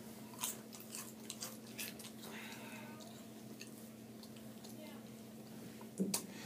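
Soft crunching and chewing of Lay's deep dish pizza flavor potato chips, close to the mouth and fairly quiet, with a couple of crisp bites standing out over a steady low hum.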